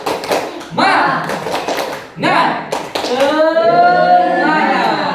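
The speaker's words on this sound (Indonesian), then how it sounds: "Ya tepuk semangat." A group of adults does the rhythmic tepuk semangat clapping at a school training session, with bursts of patterned claps alongside chanting voices, fairly close and loud.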